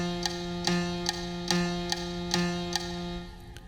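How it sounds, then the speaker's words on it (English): A woodblock metronome clicks out steady eighth notes, about eight crisp, evenly spaced ticks over a faint sustained tone. "each one of these quarter notes into 2 woodblock eighth notes, and that would sound like this"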